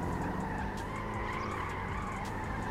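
A car in GTA 5 skids with a loud continuous tyre screech over a roaring engine, sustained and close for a few seconds.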